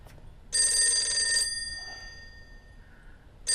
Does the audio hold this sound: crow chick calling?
no